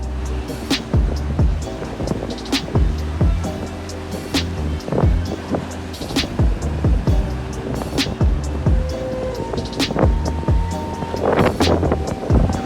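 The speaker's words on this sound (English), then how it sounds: "keep watching to see the huge waves inside of the pool." Heavy seawater surges and crashes through a ship's swimming pool during rough seas, a continuous loud, turbulent wash with repeated sloshing impacts and splashes, wind noise roaring across the microphone throughout.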